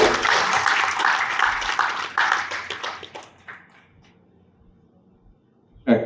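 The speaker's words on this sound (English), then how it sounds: "Let's give a round of applause" An audience at an indoor beverage-industry event applauds to welcome an expert to the stage: several seconds of dense, fairly close clapping that thins out and fades to near silence, followed by a brief loud burst at the end.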